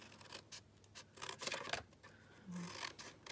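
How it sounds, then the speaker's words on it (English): Scissors snip through the paper parts of a gift box template in a few quiet, closely spaced cuts with light rubbing of paper between them; no one speaks. "you need to cut down these parts here and then wedge your tabs"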